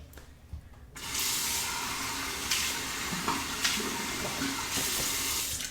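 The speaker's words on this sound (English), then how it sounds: "Filling up my Scully cup about 3/4 of the way." Tap water pours steadily into a shaving scuttle cup, a loud close rushing stream that starts abruptly after a second of quieter handling noise and keeps running.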